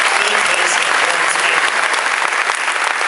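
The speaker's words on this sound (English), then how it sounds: "Another round of applause for the teams that" Loud, dense applause from the audience at the IYPT 2012 physics tournament medal ceremony honors the competing teams, a continuous close roar of clapping with no break.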